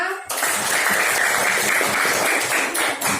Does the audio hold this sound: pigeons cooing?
no